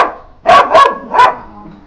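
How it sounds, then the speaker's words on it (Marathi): A dog on a village farm gives three loud, close barks in quick succession, the first two nearly back to back and the third after a short pause. "तिथून रॉकी ओरडतोय तिकडून."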